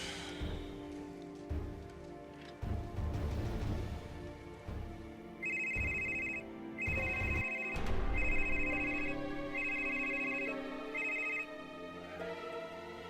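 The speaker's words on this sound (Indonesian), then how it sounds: "Dion, sekarang juga kamu telepon Anita." A telephone rings during a phone call, with five evenly spaced electronic trill bursts in a steady rhythm. The rings sit over a constant wash of rain-like background noise with low music or ambience underneath.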